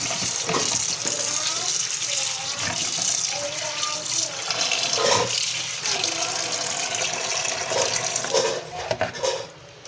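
Tap water runs strongly over green chillies being washed for pickling, a loud steady splashing gush that shifts as the chillies are handled, with a voice faintly underneath.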